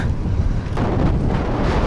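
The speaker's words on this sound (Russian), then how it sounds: "Ветер такой, как в стену еду. Реально вообще пипец. Ровно в лицо дует." Strong headwind blasting into the microphone while riding, a steady, loud, low rumbling buffet that fills the whole stretch without a break.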